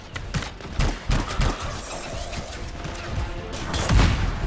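Rapid gunfire in the video game Anthem, a string of close bursts and impacts with some crashing mechanical noise, followed by a heavier boom near the end.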